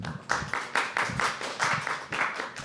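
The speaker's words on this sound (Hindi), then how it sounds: "जोरदार तालियां दोस्तों।" Audience applause at a poetry open mic, a small crowd clapping in a brisk, fairly regular rhythm of distinct claps throughout, moderately near, no talk.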